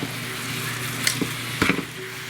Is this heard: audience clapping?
no